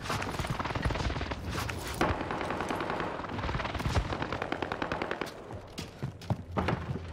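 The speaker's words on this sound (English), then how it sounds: "Enemy precision airstrike." An enemy precision airstrike in Call of Duty Vanguard Warzone on Rebirth Island brings a fast, dense barrage of gunfire and blasts in rapid bursts, loud and continuous without pause.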